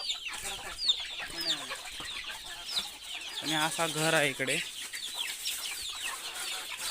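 Chickens clucking around a farmyard poultry shed, scattered clucks and a louder drawn-out call near the middle, heard under someone talking close by.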